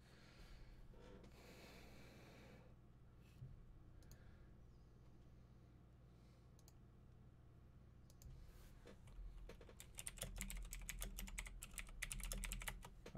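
Keys clatter on a computer keyboard during a live gaming show, quiet steady typing that grows into a louder, faster burst of clicking toward the end, with no talk over it.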